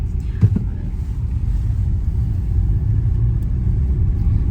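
Car driving along a road, a steady low rumble of engine and tyres heard from inside, even and continuous, with a brief knock near the start.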